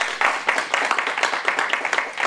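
An audience at a formal investiture ceremony applauds itself, with rapid, even, fairly close clapping that holds steady for a couple of seconds.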